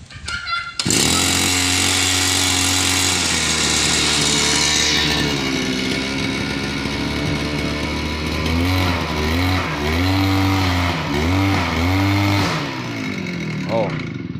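A grass cutter's small engine starts and runs loudly with a steady drone, then revs up and down several times while a voice talks over it.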